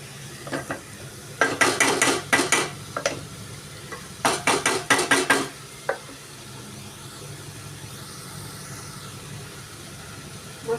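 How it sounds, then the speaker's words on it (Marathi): Boneless chicken pieces being mixed with masala in a pan for a dry chicken dish, heard as bursts of stirring scrapes and clatter in two rapid clusters, then quieter gaps with light kitchen background. "आधी हे सगळं चांगलं मिक्स करून घ्यायचं"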